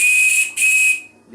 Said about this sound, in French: les 2 sifflets ne fassent pas le même bruit